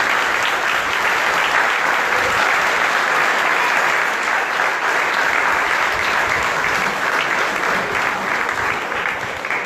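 Sustained, dense audience clapping at a naming ceremony for the Édouard de Lépine elementary school in Moulin à Vent, loud and steady throughout with no voices over it.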